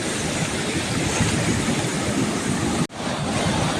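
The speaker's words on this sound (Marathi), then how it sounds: "तर मंडळी कस का आहे पाणी बघू शकता एक नंबर पूर आलेला आहे" A loud, steady roar of a flooded village lake rushing over a large waterfall fills the scene, broken once by a brief dropout near the end before the torrent resumes.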